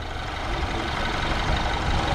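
A BMW turbocharged THP engine running: a steady, close, rumbling drone with even low throb and no pauses, heard alone.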